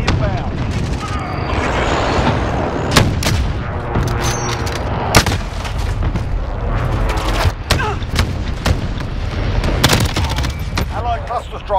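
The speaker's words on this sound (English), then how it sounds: "Be advised, friendly precision airstrike inbound." Rapid bursts of explosions and gunfire from a friendly precision airstrike in Call of Duty: Modern Warfare (2019), loud and dense, with repeated sharp blasts over a constant battle rumble and talk mixed in.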